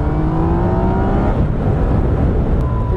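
A Yamaha MT-09 three-cylinder motorcycle engine rises in pitch under acceleration, then blurs into a dense, roaring wash of engine and wind noise that holds steady and loud.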